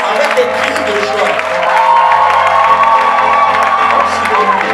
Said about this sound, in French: Est-ce qu'on peut taper des mains ou applaudir?